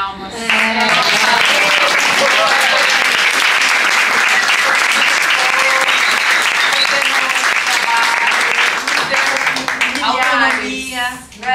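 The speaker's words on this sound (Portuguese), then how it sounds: "Gente, temos que dar uma salva de palmas." Sustained, loud applause from an audience at an educational seminar, a dense wash of clapping lasting about ten seconds with voices cheering and calling out over it before it fades.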